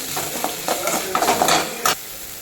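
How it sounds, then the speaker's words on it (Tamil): Mutton with onion and tomato fries in a pan for mutton gravy, a steady close sizzle broken by a few scraping stirs of a spoon against the pan, with no talking. "இப்போ வந்து அந்த மட்டனில் வந்து நல்லா வெங்காயமும் தக்காளியும் நல்லா ஃப்ரை ஆகிடுச்சு"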